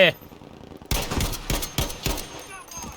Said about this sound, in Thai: ด้านขวายิงมาใช่ไหม